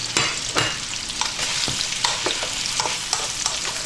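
Chopped pork ribs with white onion sizzle and fry in a wok, a loud continuous hiss punctuated by repeated scraping clicks of stirring, close up and without talk.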